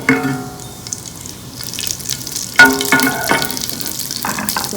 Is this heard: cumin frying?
yes